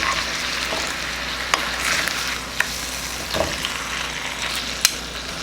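A steak sizzles loudly in a pan as it is flipped, giving a steady close frying hiss broken by a few sharp crackles and clicks, with no voices.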